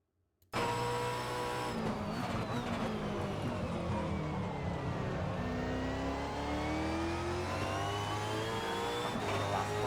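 A Holden Commodore V8 Supercar in a racing video game howls at full speed, a loud, steady engine note that rises and falls through gear changes, with no talk over it.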